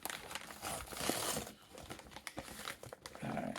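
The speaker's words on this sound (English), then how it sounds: "I love the sound of ripping paper." Paper tearing and crinkling while an Amazon package is unboxed, a close run of rustling rips and crumples in uneven bursts with no talk.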